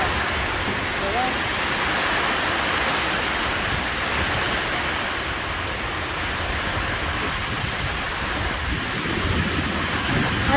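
A strong storm with wind and rain hitting around a small house, a loud, continuous roaring wash of wind and heavy rainfall with no pauses, filling the whole soundscape.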